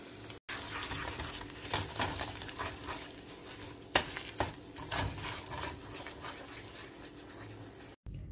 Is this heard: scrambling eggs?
yes